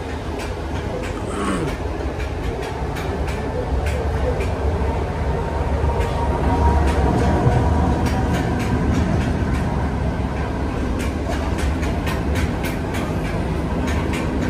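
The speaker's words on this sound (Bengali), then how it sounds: "এটা হচ্ছে ট্রেনের ভিতরে।" Inside a Russian local commuter train running near Moscow, a steady rumbling drone fills the carriage, with rhythmic clicks from the rails and faint voices now and then.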